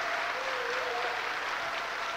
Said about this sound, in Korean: 여러분 박수 한번 칩시다